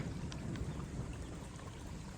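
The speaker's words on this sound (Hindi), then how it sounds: "थोड़ा थोड़ा बारिश होते हैं" Light rain falls steadily in a forest, a soft continuous patter with faint scattered drops, fairly quiet and with no voices.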